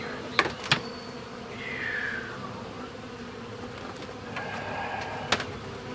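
Bees buzzing close by, a wavering drone with a few sharper passes and brief clicks or knocks in between, moderately loud against a steady background hum.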